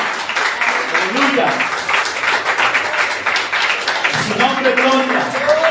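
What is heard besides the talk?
congregation applauding in church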